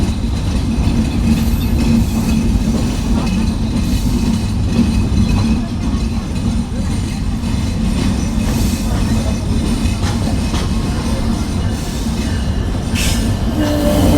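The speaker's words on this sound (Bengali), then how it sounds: "আমরা প্রবেশ করলাম চুয়াডাঙ্গা জেলার চুয়াডাঙ্গা রেলওয়ে স্টেশনে।" The Rupsha Express intercity train rolls into Chuadanga railway station, heard from on board as a loud, continuous low rumble of wheels and carriages with faint squeals and clatter throughout.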